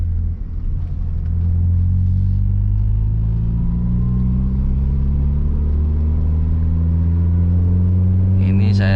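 A manual-transmission car engine accelerating up close, a loud, steady low rumble whose pitch climbs smoothly as the revs rise, with no talk over it.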